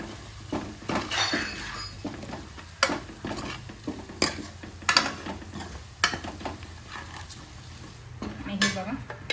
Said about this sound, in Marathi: हे पावभाजी मसाला आहे त्याने आपल्याला टाकून घ्यायचं मस्त असं हलवून घ्यायचं